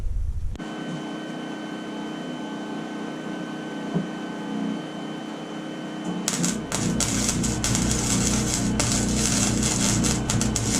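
A Lincoln Electric 125 MIG welder runs off a 3500 watt Generac generator while welding the edge of a half-barrel wood stove. First comes a steady hum, then a loud, close, crackling buzz of the arc for several seconds.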